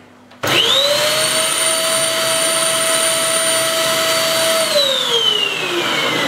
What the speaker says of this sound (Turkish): Elektrik süpürgesi çalışıyor mu ona bakıyoruz.